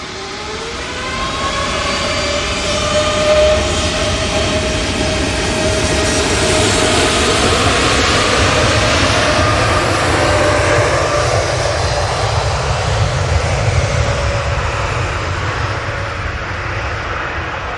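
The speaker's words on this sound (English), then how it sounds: "Beautiful Dreamliner." A Virgin Atlantic Boeing 787 Dreamliner passes with a loud, sustained jet engine roar and falling whine that builds quickly and stays strong, with no talk.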